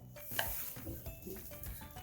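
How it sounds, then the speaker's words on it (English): Melted soap stirred with a stirrer in a container, quiet scraping and soft clinking strokes in an irregular rhythm, close and faint, with no talking. "we'll use our stirrer to get the rest of it incorporated"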